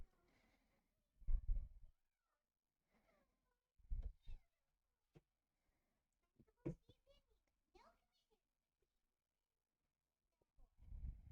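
A house cat meows a few times in short separate bursts, near and fairly clear, with quiet gaps between calls and a person talking briefly nearby.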